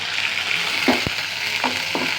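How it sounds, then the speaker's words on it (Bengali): Chopped green chillies fry among browned fried onions in hot oil for a spicy country chicken curry. A close, constant sizzle is broken by a few sharp knocks of a stirring spoon against the pan. "এখন এর মধ্যে দিয়ে দিচ্ছি কিছু পরিমাণ কাঁচামরিচ কুচি।"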